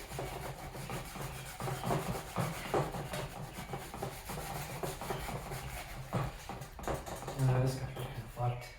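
A Scotch-Brite pad scrubs a part from a 1999 Ford Mustang Cobra teardown, a steady close rasping rub with short uneven strokes, with a voice talking over it.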